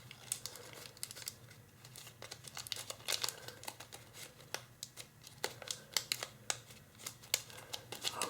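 Paper being folded into an origami model gives crisp, repeated crinkles and creases, close and steady throughout with sharp rustling bursts and no talking.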